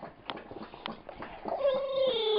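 A dog grumbles and yips in short bursts while play-biting another dog's ear, then lets out a rising, drawn-out whine, all close and fairly quiet.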